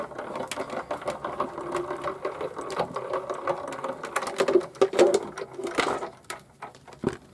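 A card in an embossing folder is cranked through a manual embossing machine. Faint, uneven clicking, ratcheting and rolling mechanical sounds come in irregular bursts, with a few sharper knocks near the end.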